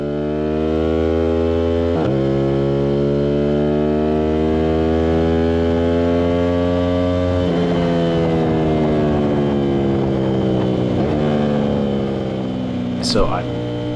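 Aprilia RS660 fitted with a CRT exhaust on a race track, its engine loud and close, revving high and dropping through quick downshifts before a corner, with rising and falling pitch throughout.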